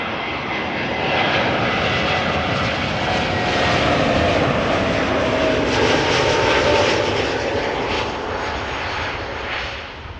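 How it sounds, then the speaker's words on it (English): An ITA Airways Airbus A350-900 arrives at Amsterdam Schiphol, a loud, steady broadband jet roar with a whining tone that swells through the middle and eases slightly at the end, with no voices. "A350-900 inbound from Atlanta."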